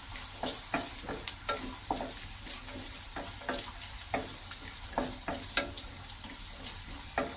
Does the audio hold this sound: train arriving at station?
no